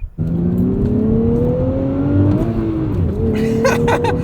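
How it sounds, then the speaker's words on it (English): A 2025 Nissan Z engine revs up through a gear, the pitch climbing, dipping briefly at the shift and climbing again, loud and close with a brief rev blip and no talking. "I've noticed that when I upshift, it's actually keeping the RPM high, almost blipping it for a quick second into the next shift."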